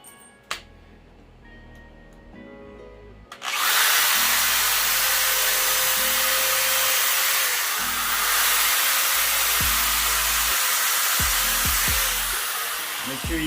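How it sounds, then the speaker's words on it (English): A power drill drives screws into a PVC pipe rack, starting after a few quiet seconds as a loud, steady, close whirring that shifts slightly in pitch and runs nearly continuously to the end. "So we're gonna do a quick screwing."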